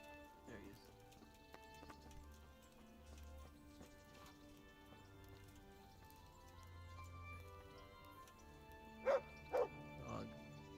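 A dog barks in a medieval video game, two sharp yips near the end over a quiet bed of game music and hoof-like clip-clops.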